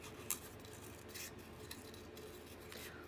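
Scissors snip through photo paper in a few quiet, close cuts with soft crisp scraping between them, against a faint steady background hum.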